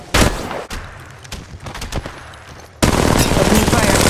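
Apex Legends gunfire in a ranked match, separate sharp shots in the first seconds, then a loud sustained automatic burst that runs to the end, close and dominant.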